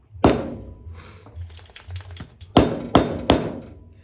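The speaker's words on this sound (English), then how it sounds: "Probably with the hammer." A hammer strikes a washer drive unit to salvage a magnet, several sharp metallic knocks at close range, a few lighter taps between louder blows, with no talk.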